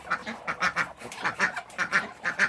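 Hungry Muscovy ducks in a backyard farm give repeated rhythmic quacks and hisses, close by, in a steady pulsing series before feeding.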